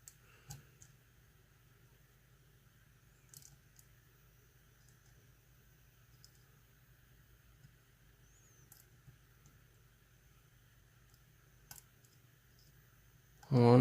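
Faint, sparse metallic clicks and ticks come from picking the serrated pins of a Mul-T-Lock C10 padlock, heard over a quiet low hum with a louder knock at the very end.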